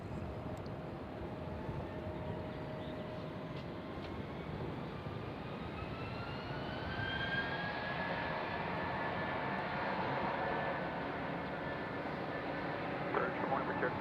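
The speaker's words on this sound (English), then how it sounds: "I hear helicopters." Helicopters fly near Nashville International Airport, giving a faint, distant engine drone under a steady low rumble of aircraft noise. A pitched whine rises slowly in the middle.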